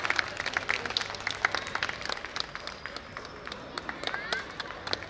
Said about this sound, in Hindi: और तालियां हो जाए यहाँ पर।